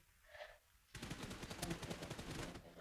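Gunfire in the mobile battle royale game PUBG Mobile: after a faint tone, a rapid burst of shots rattles steadily for about two seconds, fairly close and dense.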